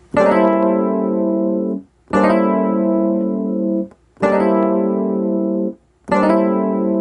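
A sustained keyboard chord rings out four times, each held for nearly two seconds with brief gaps between, rich and harmonic with no voices.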